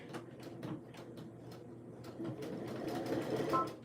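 A sewing machine runs a back stitch on a tee, its needle clattering in quick bursts, pausing and starting again, then speeding into a longer, louder run near the end.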